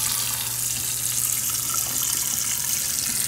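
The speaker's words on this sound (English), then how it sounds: "So we're gonna add some water" Water runs steadily from a tap into an Instant Pot during home cooking, a close, continuous rushing and splashing that holds even for the whole stretch with no talk over it.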